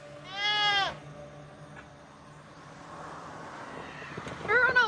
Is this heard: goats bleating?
yes